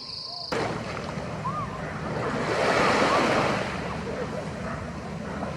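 Ocean waves and surf break steadily on a shore, a broad continuous wash that swells louder midway and eases off, with wind buffeting the microphone throughout.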